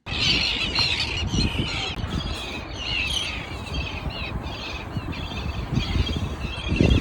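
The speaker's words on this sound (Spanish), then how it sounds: "donde anidan un montón de especies de pájaros. Miren el ruido ambiente que hay" A dense chorus of many nesting birds squawking and squealing continuously at a distance on a bay near Ushuaia, Argentina, layered over steady wind and water noise.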